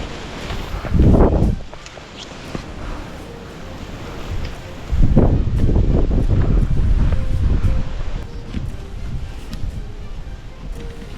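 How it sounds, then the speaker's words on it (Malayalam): Strong gusts of wind roar against the microphone in two loud surges on a forest trek to Agasthyarkoodam, with leaves rustling in between and no talking. "കാറ്റടിച്ച് മറിച്ചിടുമോ?"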